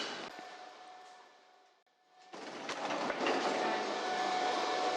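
A Paris metro train runs on its rails, a steady mechanical roar with a faint hum that dips briefly before surging louder with rattling clatter, and no talk is heard.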